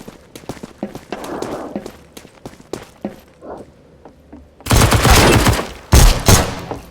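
Rapid bursts of P250 pistol gunfire in the Roblox game Bloxstrike: sharp repeated shots with footsteps between them, then a dense, loud stretch of overlapping fire near the end.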